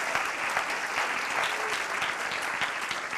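Dense, steady applause from a church congregation fills the space, continuous clapping from many hands at even loudness throughout, with a faint voice briefly audible beneath it.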